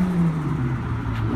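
Radio-controlled Toyota Celica GT-Four ST185 model car, an all-wheel-drive Carlos Sainz rally replica, driving at night with a short, close electric whir that dips slightly in pitch.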